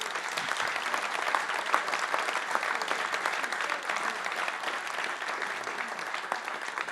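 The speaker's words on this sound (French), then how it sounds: "Est-ce qu'on peut, s'il vous plaît, juste s'applaudir collectivement ?" A conference audience in a hall applauds themselves together, dense continuous clapping from many hands held at an even level for several seconds, with no voices.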